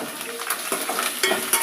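Dried red chillies and curry leaves are stirred in hot frying oil for a tempering, giving a close, continuous sizzle broken by light scraping strokes of the spoon, with no talk.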